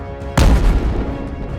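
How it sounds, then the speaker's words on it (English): A Russian LMUR missile strikes a temporary Ukrainian forces shelter in the village of Podoli, Kharkiv region: one sudden loud blast after a brief quiet, followed by a rumbling decay. "a Russian LMUR missile strikes a temporary Ukrainian forces shelter in the village of Podoli in the Kharkiv region"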